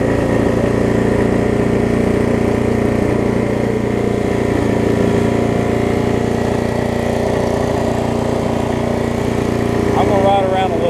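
A Snapper RER riding lawn mower engine runs steadily and loudly as the mower drives along, a constant droning hum with a slight shift near the end and a voice talking over it.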